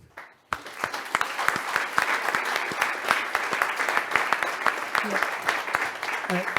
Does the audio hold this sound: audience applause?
yes